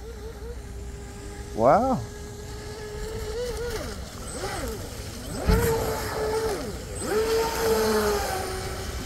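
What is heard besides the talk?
Proboat Recoil 2 RC boat motor taking off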